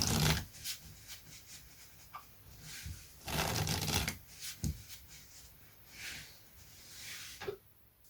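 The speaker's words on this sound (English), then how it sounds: "let's get into the open Riffle Shuffle," An open riffle shuffle of playing cards in several quick bursts of crisp, rapid fluttering clicks, close and fairly loud, with brief quiet pauses and light handling between shuffles.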